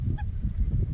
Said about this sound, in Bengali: এটা হয় টিয়া পাখির বাচ্চা